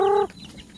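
A single short, tonal cluck from a chicken, close by, cut off quickly and followed by faint background noise.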